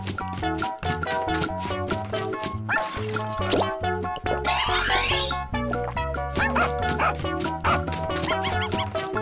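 A dog's bark rings out over a busy, loud children's painting-game music track, the yips mixed in with bright melodic tones and sparkly effects.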